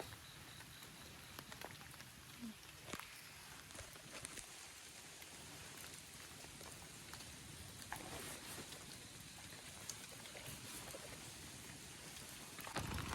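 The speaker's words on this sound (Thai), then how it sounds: "ฝนตกอยู่ค่ะ" Steady rain patters continuously on a surface, a dense hiss of drops with no voices, holding evenly throughout.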